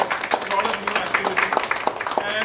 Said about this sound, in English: I would just wanted to give a round of applause for them for coming out here.